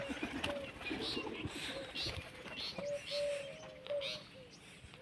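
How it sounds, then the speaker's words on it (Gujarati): Pigeons coo softly around a coop box in a steady low rumble of background noise, the drawn-out calls faint and spread through the second half. "કબૂતરા જો"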